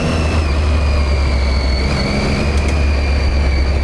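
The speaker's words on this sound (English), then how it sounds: "the Triumph is known for its little bit of a whine" A Triumph motorcycle with a stock exhaust and TKC80 tires runs on a wooded trail, its engine droning loud and close with a steady high whine held throughout.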